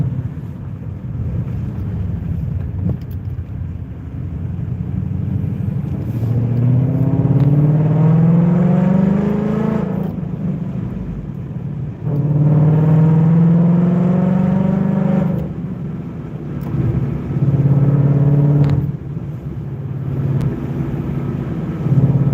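A 2020 Mustang's engine drones while driving, rising in pitch through several acceleration pulls with gear shifts between them, loud and close with wind and road noise.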